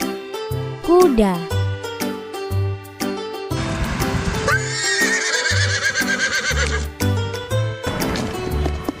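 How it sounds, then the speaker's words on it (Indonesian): A farm horse whinnies with a rising, wavering cry amid a busy musical backing of beats and tones, loud and close, mixed with other bright animal-like calls. "Kuda."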